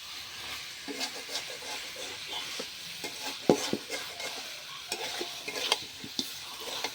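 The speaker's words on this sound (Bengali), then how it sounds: "ভালো মতন কষে নিতে হবে যাতে করে রসুনের কাঁচা গন্ধটা বের হয়ে যায়।" Garlic paste and spices for chicken curry sizzle softly in a pan while a spatula stirs with repeated scraping strokes and an occasional sharp knock, close and fairly quiet with no voices.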